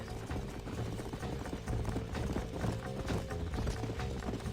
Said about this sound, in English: horses been spotted somewhere outside of Armadillo